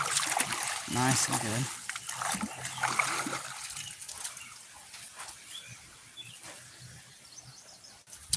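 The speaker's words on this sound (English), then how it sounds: "Rinse my net off here." A fishing net is rinsed in water outdoors, with splashing and trickling close by while someone speaks briefly over the sloshing.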